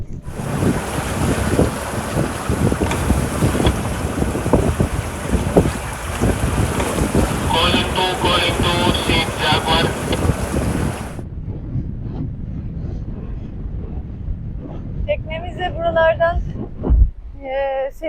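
Rumbling drone of an 80 horsepower boat engine at 2100 rpm, cruising at about 6.5 knots through the Çanakkale Strait, steady with wind and water noise for about eleven seconds, then quieter with a few brief chirping sounds.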